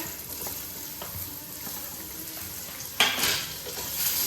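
Spices with asafoetida roast in a pan over low gas, a close steady sizzle with stirring scrapes, and a brief louder burst near the end as amla goes in.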